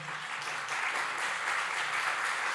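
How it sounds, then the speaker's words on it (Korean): Applause from a church congregation during a Sunday worship service, welcoming a visiting missionary; a steady, dense patter of clapping from many hands that holds evenly throughout at moderate loudness. "박수 한번 합시다"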